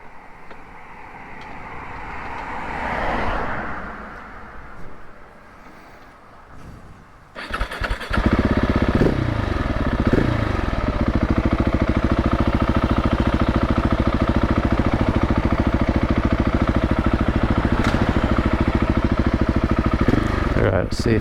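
KTM 690 SMC R single-cylinder motorcycle, stalled at the roadside, is cranked and fires into a loud, steady close-up idle and run, following several seconds of quieter fumbling and faint background.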